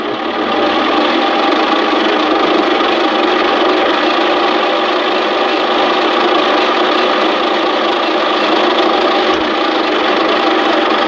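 A metal lathe runs at steady speed for a finish cut, giving a continuous, even mechanical hum and whine that stays constant throughout with no talking.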